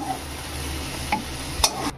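Pointed gourd pieces sizzle in hot mustard oil in a kadai, with a steady frying hiss and a few clinks and scrapes as they are stirred.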